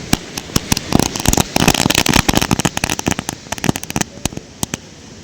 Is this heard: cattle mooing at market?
no